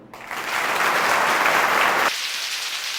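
Audience at a Telugu motivational talk breaks into loud, sustained applause that fills the hall for about two seconds, then drops to a quieter patter of clapping.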